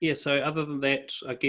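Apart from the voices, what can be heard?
No everyday noises stand out.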